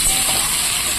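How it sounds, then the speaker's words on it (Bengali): An egg frying in hot oil in a wok, a loud, steady crackling sizzle that holds evenly through the brief moment with no talking. "ডিমটা ভাজা হয়ে গেছে"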